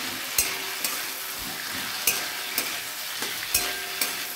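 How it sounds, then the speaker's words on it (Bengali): Potatoes already fried golden sizzle steadily in a pan with ground spice paste, while a spatula scrapes and knocks against the pan in irregular strokes, close and clear with no talking. "মশলা দিয়ে আমি এটা একটু কষে নেব ভালো করে"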